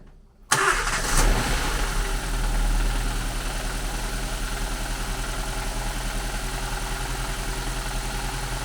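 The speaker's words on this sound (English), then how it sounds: "So now let's start up the engine and make sure everything is as it should be" A Nissan Micra K12 car engine, just fitted with new spark plugs, cranks and catches with a sharp start, then settles into a smooth, steady idle that hums on close by and alone.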